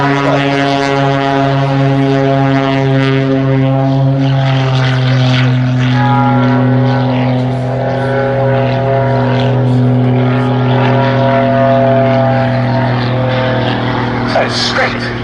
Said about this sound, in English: Flown by one of the top exponents of display aerobatics on the circuit, and it starts to take off.